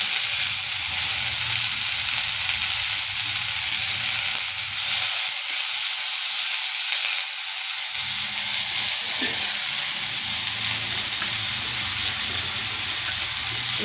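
Curry leaves sautéing in a pan for pirandai chutney, a steady close sizzle of frying with a brief lull in the middle before the crackle resumes.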